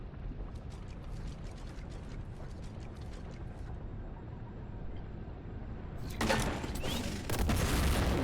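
Gunfire and explosions detonate in Warhammer 40,000: Boltgun, with rapid mechanical clatter early on and a louder burst of blasts erupting near the end, with no talking.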